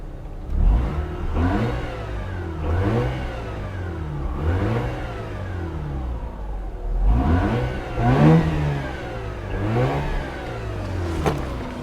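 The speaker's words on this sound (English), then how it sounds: "Let's give it a little rev." Mazda RX8 engine revved repeatedly from inside the car, rising and falling in a series of quick throttle blips that climb in pitch and drop back to idle between them.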